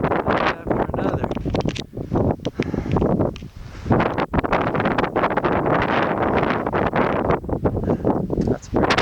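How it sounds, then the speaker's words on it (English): Loud, buffeting wind batters the microphone on the exposed summit of Mount Katahdin in Maine, a near-continuous roar with brief lulls between gusts. "Oh, it's breezy up here."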